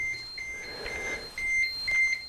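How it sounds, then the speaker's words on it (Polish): A radiation detector's alarm sounds as a thin, high electronic tone that pulses into several sharper, louder beeps toward the end, steady and close with no talking. "w detektorze mierzącym promieniowanie włączył nam się alarm."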